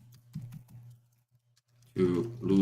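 Typing on a computer keyboard during a live stream, a light cluster of quick key clicks over a low steady hum, then a voice begins talking over it near the end.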